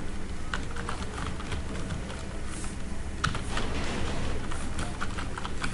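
Quick, irregular keystrokes on a computer keyboard as a file is renamed, steady close tapping over a constant hiss of background noise, with no talking.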